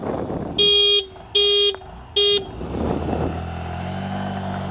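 Three short, loud honks from a 2025 Honda Activa 125 scooter horn in quick succession, followed by the engine idling and starting to rev.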